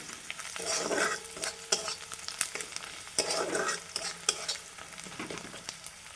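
Onions sizzling in hot oil in a pan while being stirred for a mutton kosha curry, with a soft continuous fry and intermittent scraping and clinking of the spoon, close and fairly quiet.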